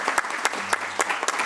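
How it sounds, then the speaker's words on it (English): A small symposium audience gives a short round of applause, a handful of claps in a loose, uneven rhythm, fairly close and modest in volume. "Round of applause."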